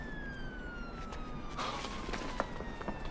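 An ambulance siren wails from a distance, a thin steady tone sliding slowly downward under faint street noise and scattered shuffling footsteps.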